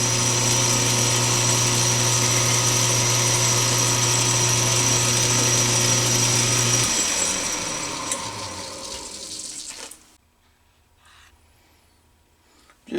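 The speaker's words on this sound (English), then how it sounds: "and then we'll cut the threads." A threading die cuts threads on a workpiece turning in a metal lathe, a steady machine drone with grinding texture that runs for about seven seconds, then winds down and stops, leaving near silence with faint clicks.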